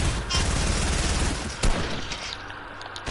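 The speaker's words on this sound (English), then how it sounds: "They got drum gun." A drum gun blasting in a video game, a continuous rapid stream of gunfire rattling for about two seconds before easing off into a quieter, noisy tail, with no voices.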